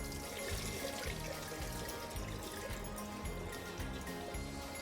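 Rinse water is poured off soaked mixed millet in a steady, close-up gush and trickle that runs unbroken throughout.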